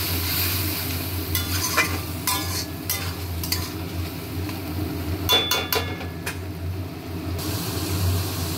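Spicy spice paste and tomato sizzle in a pan as a metal spoon stirs and scrapes, a constant close frying hiss broken by bursts of clinking and scraping strokes.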